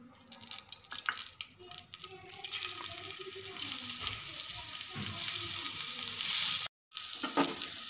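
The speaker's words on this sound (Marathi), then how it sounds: "तव्यावरती थोडंसं तेल टाकून आपण त्या फ्राय करून घ्यायच्या." Colocasia leaf rolls, alu vadi, shallow-frying in a little oil on a griddle give a continuous sizzle with bursts of crackle and spitting, loud and close, briefly cutting out near the end before resuming.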